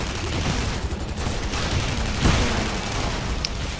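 Automatic assault rifle fire in the sci-fi shooter Tribes Ascend, a dense, steady stream of gunfire and booms filling the scene with a brief louder burst partway through, no talk over it.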